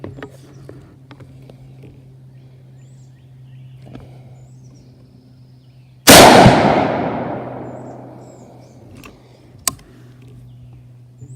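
A single loud rifle shot firing a Magtech 77 grain OTM round at a 100-yard range, a sharp crack with a long rolling echo fading over several seconds, over a low steady hum.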